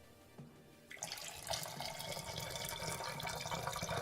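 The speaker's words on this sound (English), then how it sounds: "pour a lot of whiskey." After a moment of quiet, whiskey begins pouring into a glass with a bright, steady splashing gurgle, close and continuous.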